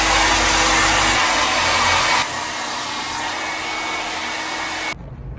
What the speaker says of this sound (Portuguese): Esse secador ainda é maravilhoso.